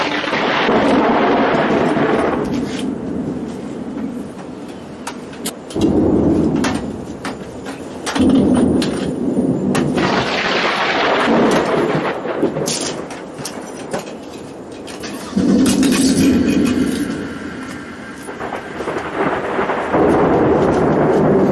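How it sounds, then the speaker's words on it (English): An approaching thunderstorm booms with loud rolling thunder over steady rain. The swells come in several long waves, and the storm sounds close at an outdoor work area. "Oh yeah, that storm's getting a lot closer."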